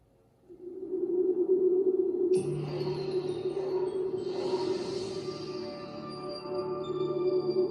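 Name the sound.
Warner Brothers 75 years logo sound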